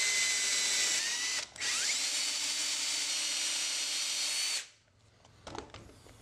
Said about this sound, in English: drill through that scale and through the other scale